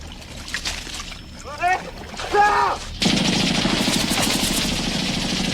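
A burst of sustained rapid gunfire from American soldiers in the 1983 film Twilight Zone: The Movie erupts and continues loudly after brief shouting voices, close and harsh.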